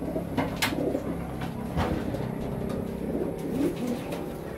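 A young racing pigeon hen cooing in a loft, soft repeated throaty coos near at hand over a low background hum, with a few sharp clicks and no talking.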